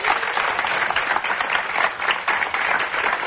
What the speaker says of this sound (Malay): Tepukan untuk Ujang.